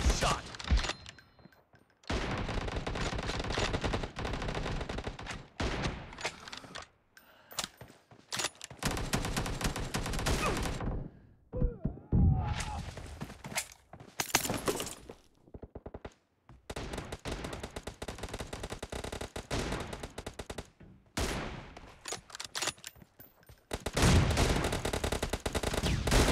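Gunfire in the video game PUBG: dense bursts of automatic rifle fire and single shots, loud and close, broken by short silences, with game voice announcements between.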